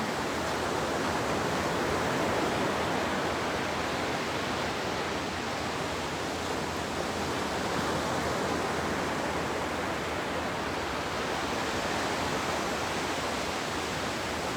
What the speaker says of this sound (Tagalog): tunog ng alon